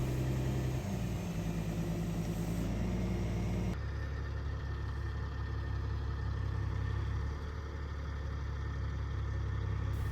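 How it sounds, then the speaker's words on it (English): A dump truck loaded with 25 tons of agricultural dolomite lime idles beside a pond, a steady low engine rumble, fairly faint and continuous, with no voices. "the lime truck is finally here, and he is going to be dumping 25 tons of this lime right beside the pond"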